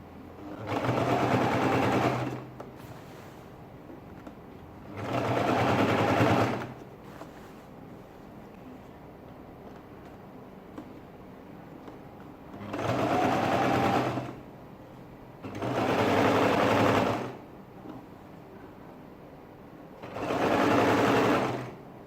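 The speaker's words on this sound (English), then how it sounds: "Getting to the end of the sewing" Sewing machine stitching a ladies' shirt dress, running in five separate bursts of a couple of seconds each, with quiet pauses between them, close and clear with no talking.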